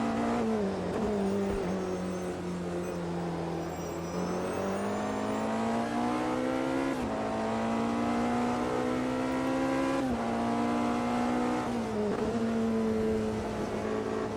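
A car engine in a racing video game, driven with an automatic gearbox, hums steadily and loud, its pitch rising and falling with acceleration and gear changes throughout.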